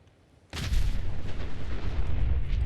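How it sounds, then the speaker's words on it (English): A sudden deep boom erupts and rolls into a sustained, roaring rumble of a nuclear explosion in the video game Fallout 4, loud and close, with crackling debris throughout. "Thank God this thin piece of tin protected me from that nuclear explosion."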